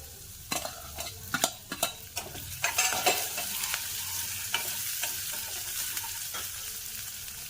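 Dried red chillies fry in a pan with a little ginger and curry leaves, a soft sizzle under repeated sharp scrapes and clacks of a spoon stirring, close and otherwise quiet.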